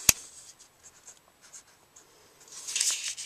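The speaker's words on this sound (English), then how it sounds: "sometimes I'll go back and I will write" A pen writing on a Stampin' Up! rubber stamp and its template, faint close scratchy strokes in short bursts, with a louder rasping scribble near the end and a sharp tap at the start.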